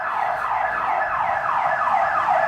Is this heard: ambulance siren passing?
yes